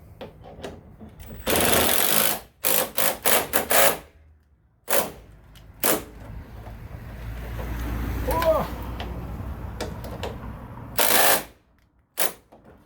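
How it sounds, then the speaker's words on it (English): Bolts on a 2019 Ford Ranger tailgate assist are tightened in several short, loud, whirring bursts, separated by quieter gaps with faint background noise. "So you heard the instructions. Let's fully tighten them."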